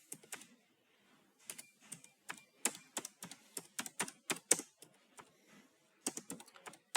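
Someone types a title into a presentation on a computer keyboard, giving soft, close key clicks in irregular bursts with brief pauses and no speech.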